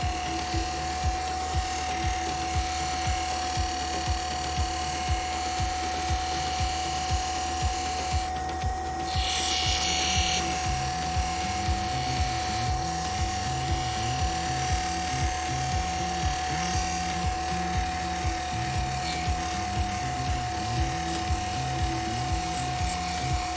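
An opal gemstone is ground and polished on a lapidary wheel to remove scratches and even out its shape, giving a steady motor whine with a continuous rhythmic buzzing grind that stays close and constant throughout.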